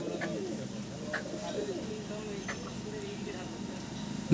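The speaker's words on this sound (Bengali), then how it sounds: "এটা হচ্ছে মাদি পায়রা আর এই যে নর পায়রা" Madrasi pigeons coo softly in repeated low murmurs, fairly faint beneath someone talking nearby.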